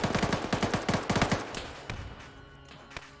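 Rapid bursts of video game machine-gun fire rattle loud and close as soldiers charging a bunker are cut down, then break into scattered single shots that thin out and fade.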